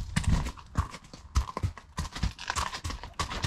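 Horse hooves clip-clop at a steady walking rhythm on a trail ride, close and fairly loud, with occasional faint snorts from the horse and no speech.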